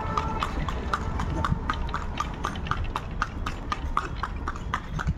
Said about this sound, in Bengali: কি সুন্দর সুন্দর ঘোড়া।